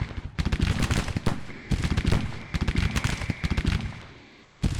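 Rapid, crackling musket volleys from Civil War infantry at the First Bull Run battle in Grand Tactician: The Civil War, loud clustered pops in several waves with short gaps between.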